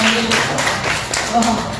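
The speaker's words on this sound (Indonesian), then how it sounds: "tepuk tangan untuk kopinya" An audience at a live magic show in a coffee stall (warkop) claps steadily, a dense patter of nearby hands beneath continuous chatter and room noise.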